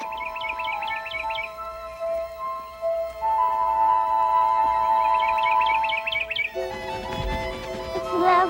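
Small songbird chirping in quick repeated bursts, near and clear over soft background music, with two runs of rapid tweets followed by a louder orchestral swell.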